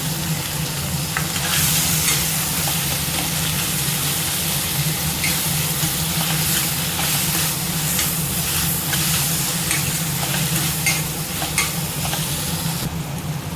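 Tomato, onion and ginger-garlic paste sauté in a pan for a kurma side dish, giving a steady, loud sizzle and crackle with occasional stirring scrapes, no voices.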